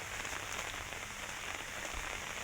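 Steady rain falls on a farm during vegetable harvest, a soft continuous hiss of drops on surfaces at low level with no voices.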